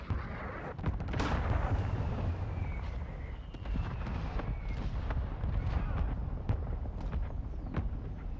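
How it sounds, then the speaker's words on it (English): Friendly mortar strike explosions in Call of Duty MW2 during an invasion battle: a dense run of loud booming blasts and sharp cracks, one after another, with scattered gunfire over a continuous rumbling din. "Friendly mortar strike inbound."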